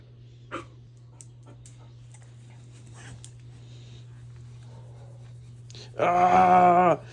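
A dog whimpers softly with faint breathy panting and small scuffles, ending in a loud, sustained whine close to the microphone, under a steady low hum.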